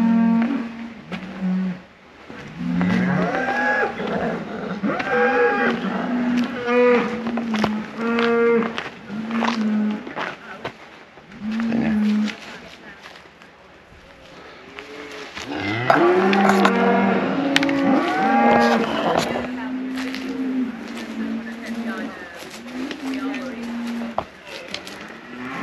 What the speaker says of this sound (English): That cow's back again.